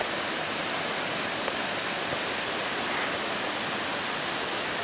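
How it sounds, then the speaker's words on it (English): Angel Falls in the Maine woods after rain, a continuous loud broadband rush of falling water with no breaks and no voices. "We are here at Angel Falls"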